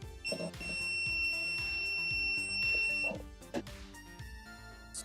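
A plugged-in filament dryer box for 3D printing beeps several times at close range in a room, with faint music and background noise underneath and no talking.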